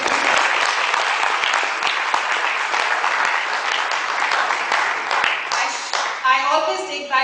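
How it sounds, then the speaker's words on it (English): An audience at an inspirational talk applauds steadily and fairly loudly for several seconds before the speaker resumes talking. "I always take back these applause"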